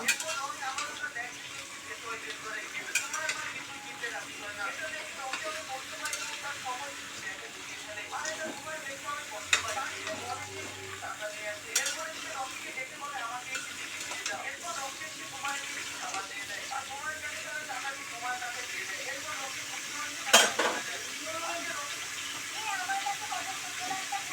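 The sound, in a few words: vegetables being stirred and fried in a pot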